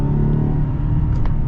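A 2024 Mazda CX-90 PHEV plug-in hybrid SUV accelerating after a downshift, giving a loud, steady engine drone with a low humming tone and road rumble, heard from inside the cabin without talk.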